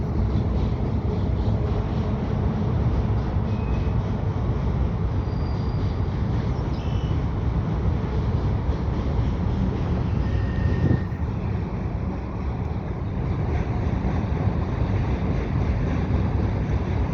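Freight train rolling across the old steel truss Victoria Bridge in Montreal, a steady loud rumble and rushing roar that fills the scene without letup, heavy wind buffeting the microphone throughout.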